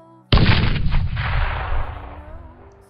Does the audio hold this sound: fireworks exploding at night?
yes